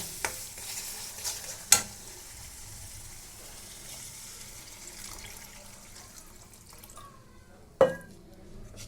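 A faint, steady sizzle of water poured into hot oil, broken by a couple of sharp metallic clanks, the loudest near the end.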